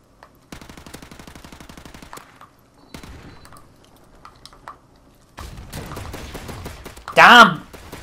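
Gunfire in a shooter video game: a rapid burst of automatic shots up front, then scattered single cracks and another volley, with a loud close blast near the end.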